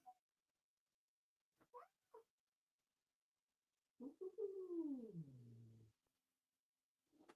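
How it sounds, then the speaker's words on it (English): A domestic cat lets out a clear, drawn-out meow of about two seconds that falls in pitch, close and distinct in a quiet room, after a few short faint chirps. "I heard that meow."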